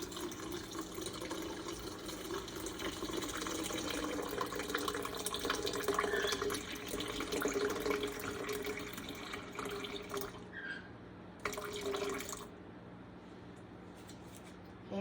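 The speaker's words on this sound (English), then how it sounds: "So I'm going to add 340 grams of water." Water pours steadily into a bowl for about ten seconds while making sourdough dough, then stops with a few brief splashes and small clinks.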